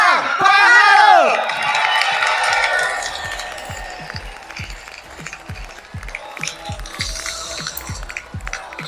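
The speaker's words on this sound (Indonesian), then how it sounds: "mari kita sambut dengan meriah dan penuh semangat ketua baru kita, Bro, Kaisang Pangarep." A crowd cheers and whoops loudly to welcome a new party chairman, the roar strongest at the start and then settling into steady cheering with scattered claps and shouts across the hall.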